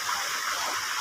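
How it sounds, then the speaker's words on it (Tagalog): Strong, fast river current flowing through fields, a steady broadband rush of water, close and continuous for a brief moment. "Malalim po yan mga idol. Mabilis yung agos."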